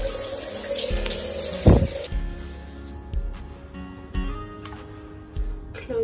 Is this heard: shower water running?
yes